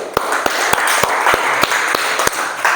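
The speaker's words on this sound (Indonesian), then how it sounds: "Kita beri tepuk tangan dulu" A group claps together, steady applause with a few louder distinct claps standing out, close and energetic throughout.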